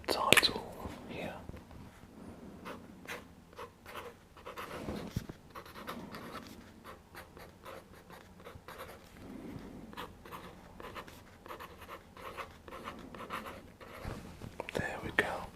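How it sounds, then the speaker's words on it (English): A pen writes a title by hand on paper in a quiet close-up, producing soft, scratchy strokes in short bursts, with faint whispering in between. "Let's write the title here."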